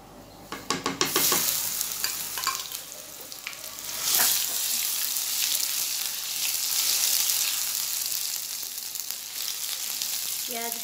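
Garlic ginger paste drops into hot oil for a mixed vegetable sabzi and erupts in loud sizzling, with rapid stirring and scraping at the start, then a sustained close crackle continues.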